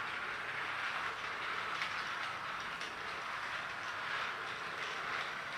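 A cheap battery-powered Dinosaur Train toy train, weighted down and struggling to make headway, runs with a steady, faint whirring clatter that continues evenly throughout.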